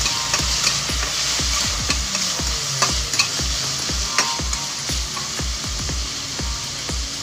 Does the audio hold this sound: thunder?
no